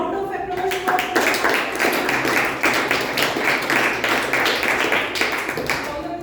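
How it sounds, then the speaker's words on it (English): An audience at a Toastmasters meeting breaks into applause, several seconds of dense, even clapping from a roomful of people that fades toward the end. "Big round of applause for"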